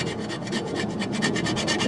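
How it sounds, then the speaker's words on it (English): Metal file scraping paint and lacquer off a scythe blade, a steady, continuous rasping rub with a quick repeated stroke rhythm, close and alone. "Now we want to just remove the paint and the lacquer from both sides. So we use the same file, the tip of it."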